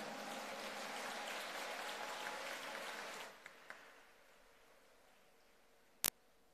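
A church congregation applauds in a soft, even patter of many hands for about three seconds, then fades to quiet with a couple of faint taps and one sharp click near the end.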